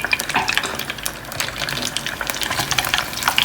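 Eggrolls fry in hot oil as they are lifted out, giving a close, continuous crackling sizzle with dense spitting pops throughout.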